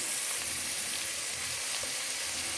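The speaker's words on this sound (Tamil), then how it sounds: "சேர்த்துட்டு இப்போ இதை நல்லா வதக்கி கொள்ளுவோம்" Onions sautéing with rock salt in a pan, a loud, steady hiss of frying that fills the whole stretch, close and unbroken, with no talk.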